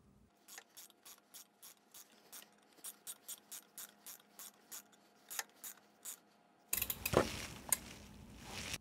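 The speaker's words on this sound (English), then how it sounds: "So, spin our ratcheting wrench around." A ratcheting wrench clicks steadily in short rhythmic bursts, close and crisp, while a cam is installed on a 2023 Harley-Davidson M8 Road Glide; a louder clattering handling noise follows at the end.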